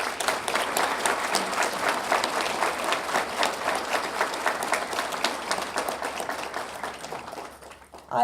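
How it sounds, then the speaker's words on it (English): Crowd at a college campus expansion ribbon cutting gives a loud, sustained round of applause, many hands clapping densely before tapering off near the end. "give each and every one of you a round of applause because you made this happen"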